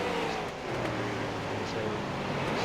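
A street stock race car, the 420 car, laps a dirt oval at a World Street Stock event, its engine droning steadily and fairly loud with a low rumble throughout.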